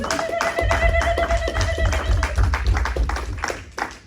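A church congregation claps for the Lord in steady, rhythmic unison, the claps fairly close and continuous over music and voices.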